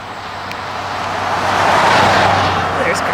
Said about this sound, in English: There's cars.